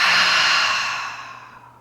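A single deep, airy breath during a yoga breathing exercise, loud and close, swelling at the start and fading smoothly over about two seconds.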